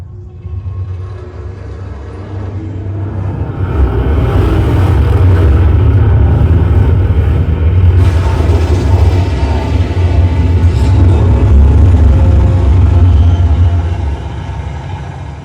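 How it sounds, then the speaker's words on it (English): Racing cars rumble and rev through a Sony HT-A5000 soundbar in a home cinema demo. A loud, deep engine roar builds after a few seconds and holds steady to the end, with no voices. "Cars racing."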